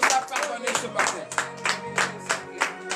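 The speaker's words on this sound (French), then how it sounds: "donnez de vives acclamations éternelles" A congregation at a morning prayer service in Benin claps together in a steady rhythmic beat, loud and close, with voices mixed in around the clapping.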